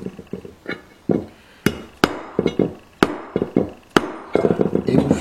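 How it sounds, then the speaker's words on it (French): A mallet tapping a 13 mm socket held against the outer edge of an oil seal to drive it into place, a series of sharp metallic knocks of varying strength, some in quick clusters. "vous aider d'une petite douille de 13 et d'un maillet afin de pouvoir l'insérer complètement"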